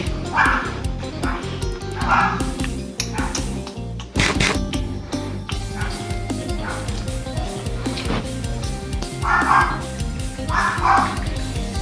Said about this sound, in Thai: ให้หยุดเห่าดิ